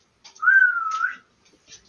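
A single person whistles a sustained, slightly wavering tone lasting just under a second, close and clear, in an otherwise quiet moment with faint soft noises after.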